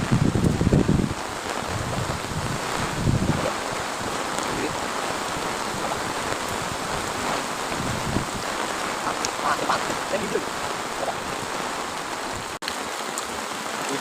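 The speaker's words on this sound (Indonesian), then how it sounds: "Hujan kawan, hujan." Steady rain hisses down on a beach during a fishing trip, a dense continuous wash of noise with faint scattered bits of other sound mixed in.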